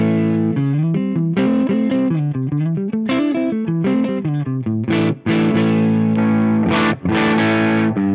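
An electric guitar on its neck single-coil pickup, distorted through a Westerlund Audio One drive pedal, plays a melodic riff with sustained, gritty notes and a few strummed chords toward the end, alone without talk.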